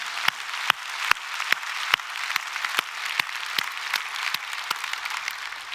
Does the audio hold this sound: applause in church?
yes